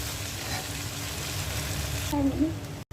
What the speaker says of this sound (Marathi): हे गाजर टाकलेलं आहे, ते शेजवान चटणी टाकते। नूडल्स टाकते आता